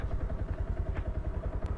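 A motorcycle engine chugs unevenly in a steady low pulse as a learner rider gets going with clutch and gears, close by and moderately loud, with occasional clattering knocks and no talk over it.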